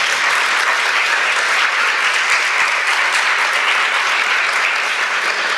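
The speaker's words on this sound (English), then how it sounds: "I would like you to give a round of applause for our founding mothers." Loud, dense applause from an audience honoring the founding mothers of a mentoring network for young women journalists, sustained evenly for the whole stretch with no talk over it.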